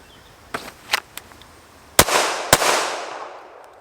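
Sharp pistol shots from a compensated Springfield Hellcat handgun at a range, a few quick cracks followed by two louder close reports with ringing decay.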